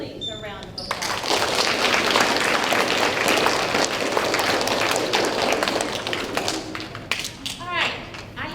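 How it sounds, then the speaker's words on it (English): School audience at a fifth grade celebration applauding parents and families, with dense, loud clapping that swells after a brief pause and tapers toward the end, a voice speaking at the start and the close. "could you also give your parents and your families a round of applause?"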